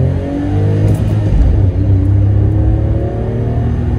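A SEAT Mii 1.0 three-cylinder 60 hp car engine revs hard under acceleration. The loud, steady drone climbs in pitch as it pulls through the gears.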